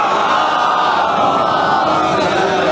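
A large gathering at a Muharram majlis recites salawat together, a loud, continuous mass of chanting voices swelling as one, close and sustained.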